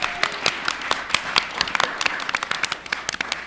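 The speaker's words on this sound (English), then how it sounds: "Give yourselves a round of applause." An audience at the close of a meetup panel claps together, with a dense burst of applause and sharp individual claps standing out as it thins toward the end.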